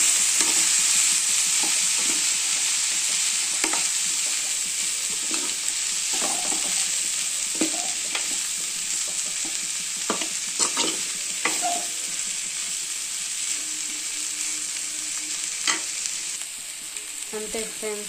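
Broad beans (chikkudu kaya) frying in a pan while being stirred, a constant hissing sizzle broken by repeated scraping and clattering strokes of the spatula, close and steady with no talking.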